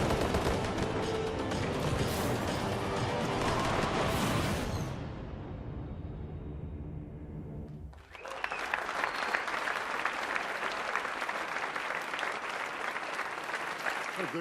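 An audience at a Call of Duty: Advanced Warfare multiplayer presentation at Gamescom breaks into loud, dense applause, which fades briefly mid-way after gunfire-like game sounds and then surges back strongly.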